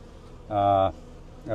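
Honey bees from a twelve-year-old hive of mixed breeds (Italian, Carniolan, German black) buzz loudly and close by, in two strong droning bursts separated by a quieter stretch.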